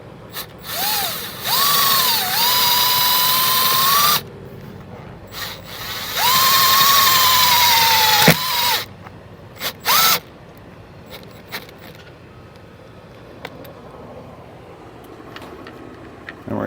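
A cordless power drill drives tapered screws into an RV slide-out awning mount in two sustained whirring bursts with rising and falling pitch, followed by short clicks and handling noises, loud and close.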